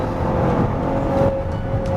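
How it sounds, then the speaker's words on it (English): Exhaust of a 2020 Maserati Levante Q4 SUV in sport mode, a steady loud engine drone with a strong low rumble holding evenly throughout. "just turn on sport and listen to the exhaust"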